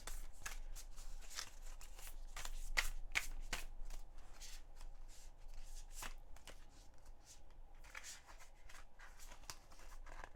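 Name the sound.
shuffling oracle cards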